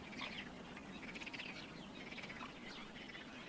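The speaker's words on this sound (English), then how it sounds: "The resident marsh frogs treat us not just to a chorus, but to a mating display as well." Marsh frogs in the Iraqi marshes call in chorus, faint overlapping croaks and squawk-like notes repeating irregularly over a soft background.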